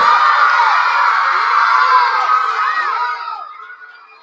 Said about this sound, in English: If that was your favorite, give me a cheer.